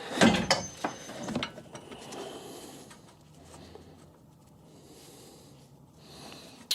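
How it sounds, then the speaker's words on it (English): Mechanical clunks and ratcheting clicks while a bolt is fitted during a Fiat 500 clutch and gearbox install, busiest early and then fading to quieter scraping and handling noise, with no talking. "Just get the bolt through the back of here."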